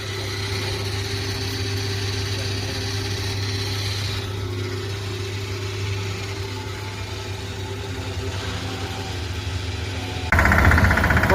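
A newly delivered tractor idles close by, its engine a steady, even hum. A sudden louder burst of broadband noise comes in near the end.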